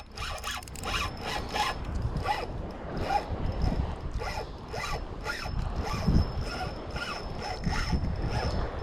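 A fishing reel's drag screams in repeated ratcheting bursts as a big fish pulls line during surf fishing, fast and close over the sound of wind and surf.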